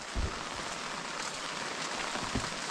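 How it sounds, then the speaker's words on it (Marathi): Dense, steady monsoon rain patters on a surface nearby in a Konkan village, a constant hiss with a couple of low thumps, and no talking. "सुरुवात झाली आहे पाऊस पडतोय"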